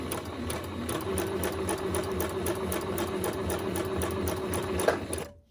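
A sewing machine stitches through paper in one steady run, its rapid even needle rhythm close and loud for several seconds before stopping abruptly, with no talk.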